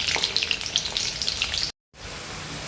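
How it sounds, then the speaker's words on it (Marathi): French fries slow frying in hot oil give off a steady, close, crackling sizzle with small spattering pops from water droplets, briefly cut off before resuming. "ते फ्राय टाकून दिला आहे पण याचं पाण्याचं शिंतोडं होतात थोडे थोडे"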